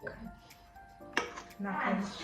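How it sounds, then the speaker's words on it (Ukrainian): Soft scraping and a sharp metallic clink of a spoon scooping paska dough into a pan, with someone speaking quietly over the kitchen sounds. "накладаю ложкою тісто"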